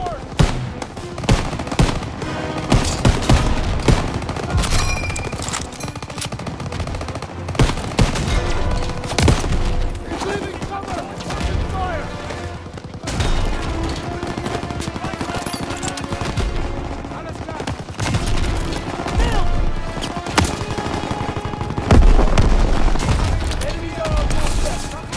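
Heavy gunfire rattles through a World War II battle in Call of Duty WW2, with sustained machine-gun bursts and rifle shots layered loud and close, with voices shouting in the mix.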